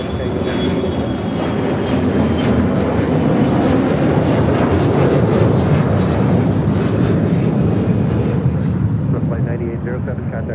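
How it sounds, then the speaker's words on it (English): A Boeing 737-400 jet airliner takes off at LAX, its engines sending out a loud, sustained roar with a faint high whine on top, holding steady throughout at close range. "This is IRO Airways 9807 taking off to Gary on a 737-400."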